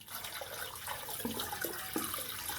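Water runs through a freshly unclogged drain channel, a soft steady rushing flow with faint gurgles, fairly quiet and heard alone.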